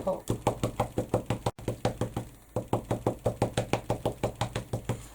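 Steady tapping of a rubber stamp pressed repeatedly onto paper and an ink pad while making thank-you cards with distress ink, a close, even run of sharp knocks with one brief pause.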